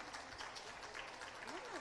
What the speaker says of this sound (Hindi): तालियां होती रहे आपकी तरफ से जोरदार।